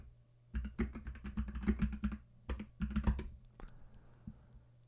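Quick bursts of typing on a computer keyboard while entering a Google search, clattering keys in uneven runs with short pauses, close and moderately loud over a low steady hum.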